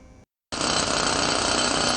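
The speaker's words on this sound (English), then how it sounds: "As construction work goes on outside" Construction work outside City Hall, with a jackhammer drilling: a short burst, a brief gap, then a loud, continuous, dense rattling roar that holds steady to the end.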